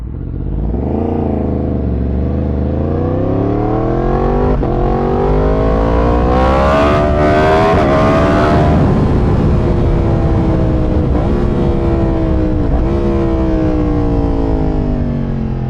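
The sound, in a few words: motorcycle aftermarket exhaust revving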